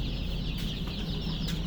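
Nine-day-old tiger chicks in a brooding pen cheep and cluck softly, a faint, continuous chatter of many small birds close by with no talking.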